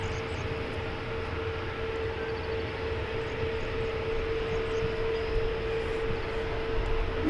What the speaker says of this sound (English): Coming in from Denver, flight 1634.